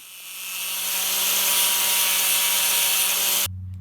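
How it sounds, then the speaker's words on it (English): Power tool cutting off bolt ends and grinding burrs on an antique table being rebuilt into a barn door, one loud continuous whine lasting several seconds before it stops abruptly. "I can cut off the rest of the bolts. And grind off any burrs."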